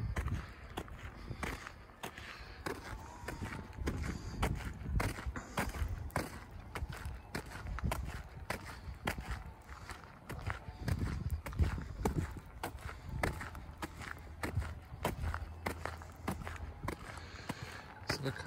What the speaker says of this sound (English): Now there's horses.